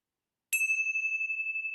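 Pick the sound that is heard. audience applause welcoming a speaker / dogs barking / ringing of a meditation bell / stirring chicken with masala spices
ringing of a meditation bell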